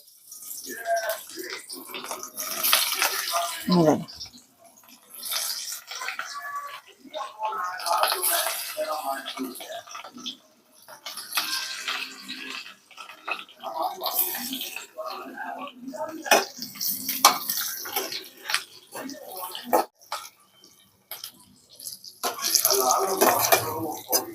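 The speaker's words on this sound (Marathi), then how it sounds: "इथं तेल गरम झालेलं आहे. आता आपण याच्यामध्ये एक एक करून टाकून देऊया आपले भरलेले कारली" Stuffed bitter gourds dropped one by one into plenty of hot oil on lowered gas flame, a crackling, hissing sizzle that rises and falls in waves, with someone talking over it.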